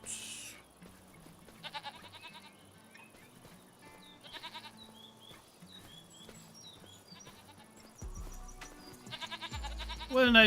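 Goats bleating in Farming Simulator 25 on the Riverbend Springs hillside pasture: several short bleats come and go over steady game background sound, growing louder toward the end.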